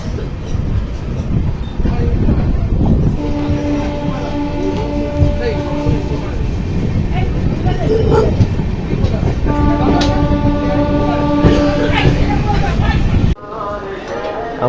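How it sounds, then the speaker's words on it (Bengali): A train at Veraval railway junction fills the station with a steady loud rumble, and two long sustained tonal notes rise over it in turn. Voices murmur in the background. "আমাদের ট্রেন"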